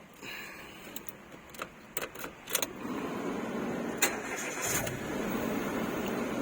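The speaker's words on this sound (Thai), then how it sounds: "ทดสอบสตาร์ท นะครับ" A Mitsubishi Mirage is started with a newly cut spare folding remote key: the starter cranks in a few quick clicking bursts, then the engine catches and settles into a steady, close idle with no talking.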